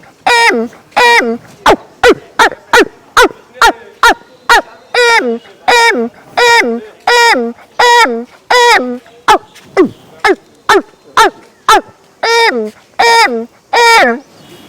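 A voice imitates the call of a kora bird, or watercock, with loud repeated hooting, honking notes in a steady rhythm, close to the microphone with no other sound.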